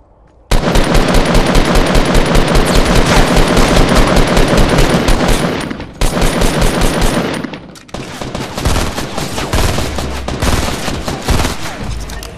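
Rapid automatic gunfire in Fortnite Battle Royale, loud and sustained in dense bursts for about twelve seconds, with a brief break near the middle and a slightly different weapon tone toward the end.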